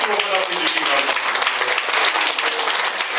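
Dense, steady applause from an audience at a Korean Teachers' Day commemoration ceremony, a close crowd of clapping hands sustained without a break for about three seconds.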